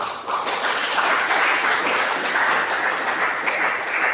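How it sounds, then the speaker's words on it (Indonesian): A church congregation claps together in praise of God, producing a continuous, dense wave of applause that stays even and full throughout. "Kita tepuk tangan buat Tuhan"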